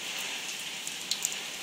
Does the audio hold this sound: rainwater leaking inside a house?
yes